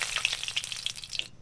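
Bay leaf sizzling in hot mustard oil, a steady bright frying crackle with several sharp pops, close and fairly loud, cutting off abruptly near the end with no voices.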